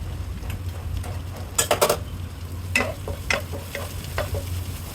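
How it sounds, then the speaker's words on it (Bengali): Chopped onions and chili fry in plenty of oil in a pan, a constant gentle sizzle broken by bursts of spatula scraping and clattering against the pan midway, close by with no talking. "প্রথমে আমরা একটা প্যানে পর্যাপ্ত পরিমাণে তেল দিয়ে পেঁয়াজ কুচি দিয়ে দিয়েছি"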